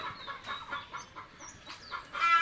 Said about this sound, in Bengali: সামনে যে মুরগিগুলো দেখতেছেন এটা ক্রস করা মিশরি ফার্মি মুরগি